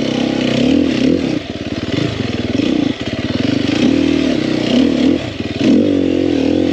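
A 2021 Sherco 300SEF four-stroke dirt bike engine revs up and down in close, loud bursts, its throttle blips separated by brief dips, with a little mechanical clatter underneath.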